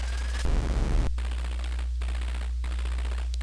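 A 1983 Bally/Midway Discs of Tron arcade cabinet fires a short rapid electronic volley, then settles into a steady machine hum with faint game effects.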